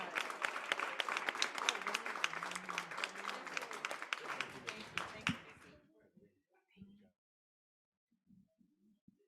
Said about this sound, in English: How about a hand for our panelists?